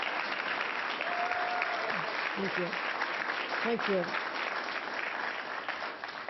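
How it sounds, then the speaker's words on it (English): Steady applause from an audience at a press announcement, continuous clapping throughout while someone briefly says thanks over it. "Let's give him a round of applause."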